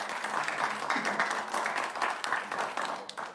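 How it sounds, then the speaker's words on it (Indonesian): An audience at a debate between candidates for regent of Serang Regency breaks into applause, a dense burst of many hands clapping that stays lively for a few seconds before thinning out. "Kita berikan tepuk tangan pada para pasangan calon"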